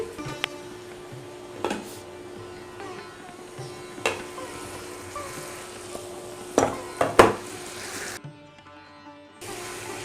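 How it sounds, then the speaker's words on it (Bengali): Mutton curry with red chili powder is cooked down in a pot, giving a faint, steady sizzle. Occasional sharp clanks of a spoon against the pot cluster near the end. "এরপরে খুব ভালোভাবে এটাকে কষাতে হবে"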